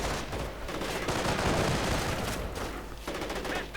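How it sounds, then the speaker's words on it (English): Anti-tank gun and rifles fire in a World War II strategy game battle, a dense, continuous barrage of overlapping gunshots and bursts that stays loud throughout with no voices. "anti-tank gun just firing away for the fun of it"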